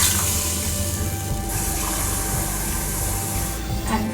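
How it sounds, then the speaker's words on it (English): Water pours steadily from a cup into a pot while chicken mandi rice is being cooked, a loud, continuous rushing stream with a few brief changes in tone as the pour shifts. "I've taken 5 cup of water."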